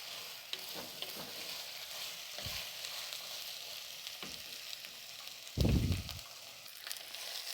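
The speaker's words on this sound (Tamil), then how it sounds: "நல்லா கத்திரிக்காயை இந்த மாதிரி எண்ணெயிலேயே நல்லா வதக்கணும்" Brinjal pieces sautéing in oil for a village-style black-eyed pea curry, a steady soft sizzle with scattered stirring scrapes and a louder burst of frying toward the end.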